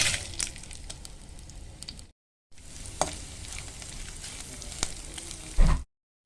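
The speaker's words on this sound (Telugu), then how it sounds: "ఎండుమిర్చి వేసి వేయించుకోవాలండి." Dried red chillies and onion fry in hot oil in a pan, a dense crackling sizzle with sharp pops, briefly cut off midway before resuming, ending with a louder clatter.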